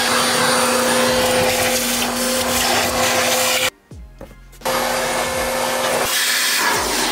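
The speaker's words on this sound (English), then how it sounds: "I'm gonna go in and vacuum." A small vacuum cleaner whines steadily up close, cuts off briefly as it winds down, then starts up again and keeps running.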